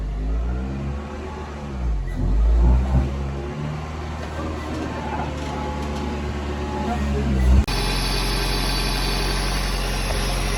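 A budget Toyota MR2 with a manual gearbox idles close by, a steady low engine drone with a brief rev swell early on and a shift in tone near the end.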